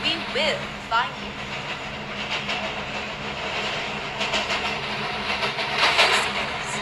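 A subway train runs along its rails with steady rumble and clatter, squeals and rattling bursts rising and falling, while an automated announcement voice speaks over the noise.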